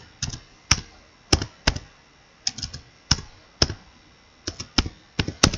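Keys clack on a computer keyboard while code is typed, sharp close clicks in short irregular bursts with brief pauses between, quiet and alone with no talk.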